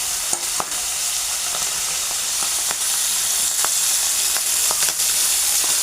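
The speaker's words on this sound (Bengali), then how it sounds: "কড়াই গরম হয়ে গেছে, মাছগুলো ছেড়ে দিলাম।" Small tangra fish fry in a hot wok, making a loud, continuous sizzle and spatter broken by occasional sharp pops and crackles, with no voices.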